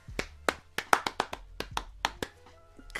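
A small group of people clapping in a rhythmic pattern, about a dozen sharp claps with irregular spacing, fairly close and with no talking.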